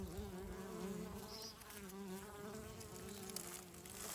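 Honey bees hum at their hive during spring cleaning, a steady close buzzing drone with a soft layered texture that continues throughout at low volume.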